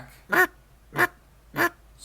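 A duck call imitates three evenly spaced, short nasal quacks, each about half a second apart, clear and alone against a quiet background.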